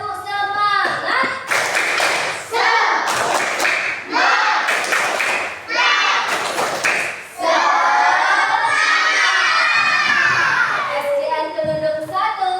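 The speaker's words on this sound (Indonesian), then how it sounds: "kita tepuk semangat dulu untuk semangat pada pagi hari ini." A class of schoolchildren at an Indonesian primary school does a rhythmic clapping chant, with loud, patterned bursts of hand claps mixed with children's voices chanting together, close and energetic.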